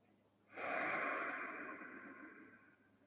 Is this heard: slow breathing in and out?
yes